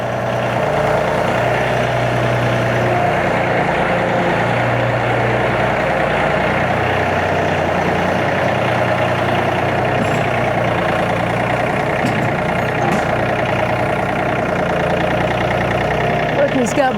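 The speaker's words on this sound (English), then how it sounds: "move the tractor, get it ready to go through the gate" A farm tractor engine runs steadily and loudly, a continuous low idling rumble throughout, with faint background noises and no clear speech.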